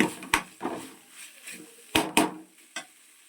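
Schezwan fried rice with red chilli sauce is stir-fried, with sharp scraping clacks of a spatula against the pan in uneven strokes and a faint sizzle underneath.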